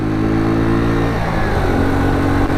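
A Yamaha SR250 motorcycle being ridden, its single-cylinder engine droning loud and close with a steady rumble that shifts pitch midway as the revs change, no speech over it.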